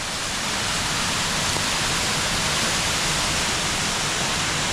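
Three waterfalls on the right branch of a stream roar as a steady, dense wash of falling water, loud and constant with no voices.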